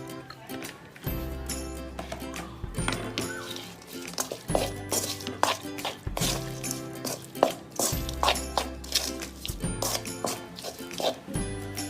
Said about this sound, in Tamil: சாதத்தை போட்டு கலக்கிடலாம்.